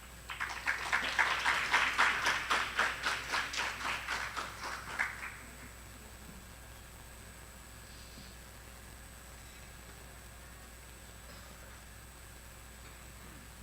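An audience at a conference welcomes a keynote speaker with a burst of applause that swells loudly, then thins into scattered claps and stops after about five seconds, leaving a quiet room hum.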